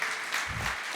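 Brief burst of congregational applause in a church service, a dense wash of clapping filling the second at moderate level with a low murmur underneath.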